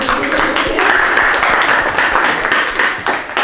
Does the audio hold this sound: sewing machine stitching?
no